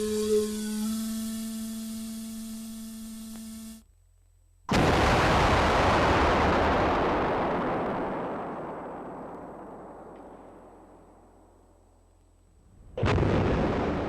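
A flour dust cloud ignites with a sudden loud roaring whoosh after a steady tonal hum cuts off, then rumbles and fades over about eight seconds before another burst hits at the end.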